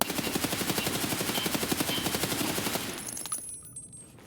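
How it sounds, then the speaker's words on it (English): An RPK light machine gun fires a sustained full-auto burst of rapid, evenly spaced reports for about three seconds, then cuts off, leaving a brief ringing tail and faint mechanical clinks in the Escape From Tarkov game. "we have the RPK"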